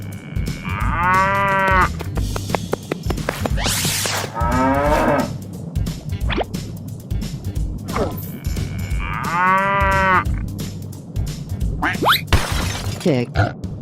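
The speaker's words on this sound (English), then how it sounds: "Cow." Two loud, drawn-out cow moos rise and fall a few seconds apart over a busy game-like backdrop with clicks and crashes, heard close and clear.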